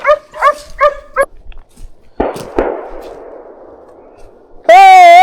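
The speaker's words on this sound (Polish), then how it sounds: "Psy prowadzą, są na linii." Hunting dogs barking on a driven boar hunt in Polish woodland: a few quick barks up close, then sharp cracks that ring out and fade, a brief shout, and a long loud warbling tone at the end.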